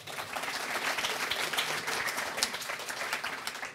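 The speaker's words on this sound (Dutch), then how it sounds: "Geef me een groot applaus" Sustained, moderately distant applause from an audience at a Dutch book talk event, an even patter of many hands clapping with no pause.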